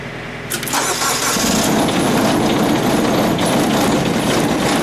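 A wood chipper engine cranks, catches after about a second, and settles into a loud, steady, rough idle as it warms up close by.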